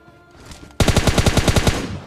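Rapid automatic gunfire in PUBG Mobile Lite, a loud burst of about a dozen evenly spaced shots that begins abruptly after a quieter stretch of game ambience.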